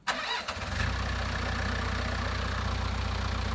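A big red tractor's engine catches with a short sputter and then settles into a steady, loud, rumbling idle with an even low throb, close by.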